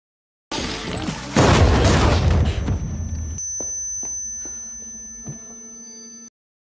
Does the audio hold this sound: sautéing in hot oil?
no